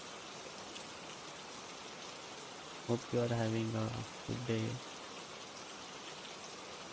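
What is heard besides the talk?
rain falling, added background audio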